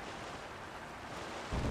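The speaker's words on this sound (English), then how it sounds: "It's sailing pretty fast with the wind from the fans." Boat in Zelda: Tears of the Kingdom crossing a river, pushed by two fans, with a steady broadband rush of wind and water that swells louder at the very end; no talking.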